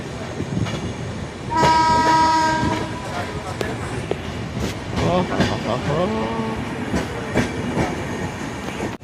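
Passenger train pulling out of Dalkhola station, a loud horn blaring over rumbling wheels and rhythmic clatter of the carriages, with a second shorter horn blast as it moves off.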